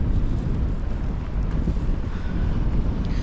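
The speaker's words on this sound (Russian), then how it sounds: "Надеюсь, еще моя вот эта пенка спасает от ветра, потому что мне по ушам долбит достаточно сильно." Strong wind batters a microphone fitted with a foam windscreen outdoors in cold weather. The result is a loud, continuous low-frequency rumble and buffeting that dominates the clip, with no speech.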